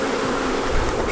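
Bees swarming around queen cells during queen rearing, a dense, steady buzzing hum close up that fills the whole brief moment.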